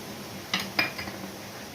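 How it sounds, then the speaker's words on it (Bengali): A pot lid is lifted off a pan of tomatoes cooking for pav bhaji, giving two quick metallic clinks close by in a quiet kitchen, followed by faint rattles as it settles. "এরপরে আমি ঢাকাটা খুলে দেখি।"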